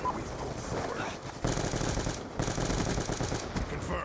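Rapid automatic gunfire from a Call of Duty match, a shotgun blasting in dense repeated bursts with brief pauses between volleys, loud and close, with faint game ambience underneath.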